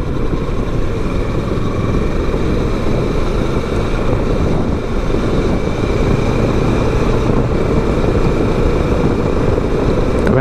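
Steady broadband engine and road rumble with wind buffeting throughout, a continuous ride with no gaps and no talking.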